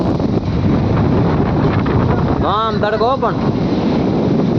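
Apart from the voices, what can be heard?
strong wind outdoors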